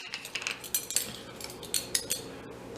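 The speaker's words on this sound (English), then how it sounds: "scoop it out and then just use something, so a chopstick or a butter knife or something like that to smooth it off" A metal teaspoon scoops baking powder and is levelled off while preparing lime chicken tacos, giving a series of light, close clinks and scrapes of cutlery against a container, alone with no talking.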